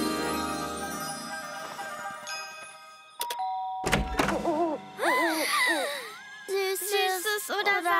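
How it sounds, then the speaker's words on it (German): A doorbell chimes in a children's Halloween trick-or-treat scene, a two-tone ding-dong ringing out clearly after a thunk, with cartoon voices chattering around it. "Los, drück die erste Türklingel."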